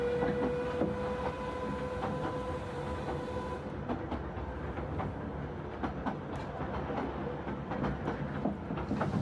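A passenger train rolls steadily on a long journey, a continuous rumbling interior drone with repeated clickety-clack rail knocks, moderately quiet and with no talking.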